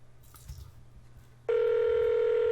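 After a moment of faint background noise, a telephone ringback tone starts abruptly, a steady electronic tone of an outgoing call.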